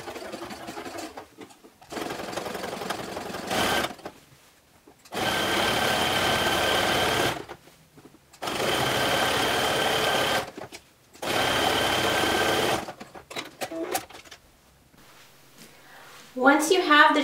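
A sewing machine stitches the drawstring channel of a sweatshirt cowl in three steady runs of a few seconds each, separated by pauses. Someone talks between the runs.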